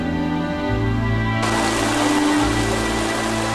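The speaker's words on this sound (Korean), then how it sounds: "오후엔 마을에 갑자기 소나기가 쏟아졌습니다." A sudden rain shower pours over a village where mourners gather for former president Roh Moo-hyun, a steady broadband hiss that swells abruptly partway through and continues evenly.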